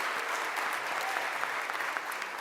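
Forum audience at a surveillance talk applauding, a steady wash of many hands clapping at moderate distance.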